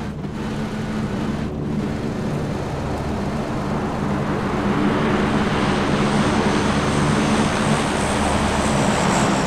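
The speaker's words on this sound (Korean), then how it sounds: "어, 비행기 떴다." A propeller airplane drones overhead in the battle royale game PUBG, a steady engine hum that swells slightly louder toward the end, continuous and without speech.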